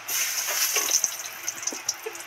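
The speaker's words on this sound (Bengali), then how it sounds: "তেজপাতা শুকনো লঙ্কা লাল লাল করে ভাজা হয়ে গেছে" Bay leaves and dried red chillies fry in mustard oil, a steady close crackling sizzle with small pops scattered through it and no voices.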